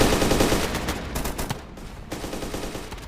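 Rapid gunfire in a video game assault backed by armored vehicles and artillery, loud overlapping bursts and shots crackling continuously for the whole stretch, with no talking.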